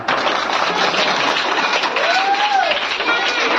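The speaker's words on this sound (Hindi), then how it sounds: "चलिए ताली बजाइए कम से कम आप लोग" A gathering celebrating a politician's 78th birthday breaks into continuous clapping, a dense, loud roar of many hands with a voice briefly rising above it.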